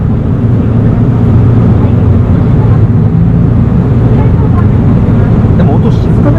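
A first-generation Mitsubishi Fuso Aero Bus V8 engine runs with a steady, heavy, low drone heard from inside the bus, while passengers talk over it.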